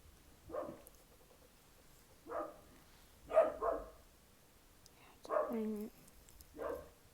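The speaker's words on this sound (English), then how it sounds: "don't mind my dogs" Several separate dog barks at uneven intervals, a few close together, moderately near in an otherwise quiet room.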